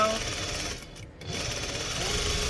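A sewing machine backstitching fabric for a catnip kicker cat toy: a close, fast mechanical whir that stops for a moment, then starts again, with a person speaking softly over it.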